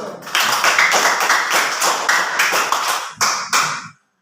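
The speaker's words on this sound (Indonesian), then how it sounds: "Tepuk tangan dulu." A classroom of children claps hands together, close and loud rapid clapping for about three seconds, then two final separate bursts before silence.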